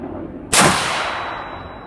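A single sharp rifle shot from an LWRC Six8 with a 14.7-inch direct-impingement barrel firing an 85-grain round, loud and close, with a steady high ringing tail after the blast.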